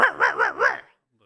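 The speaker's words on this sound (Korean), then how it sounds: "네, 개 짖는 소리." A dog in a rural village barks four times in a steady rhythm, the harmonic barks close and fairly loud, then silence.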